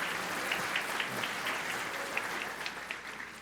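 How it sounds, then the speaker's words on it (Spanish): Applause from an audience at a talk on artificial intelligence in the media: steady, moderately loud clapping with a few sharper individual claps, tapering slightly toward the end, with no talking. "Un aplauso pues porque fue el primer valiente."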